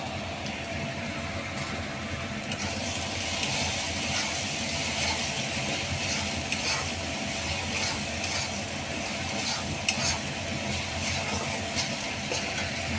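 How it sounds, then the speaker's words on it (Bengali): Turmeric and Kashmiri chili powder fry in oil for a fish curry, a dense, even hissing sizzle holding steady from start to finish with faint clicks, no one talking. "একটু মশলাটা ভেজে নেবো যতক্ষণ না তেল ছাড়ছে আর যতক্ষণ না কাঁচা গন্ধটা যাচ্ছে"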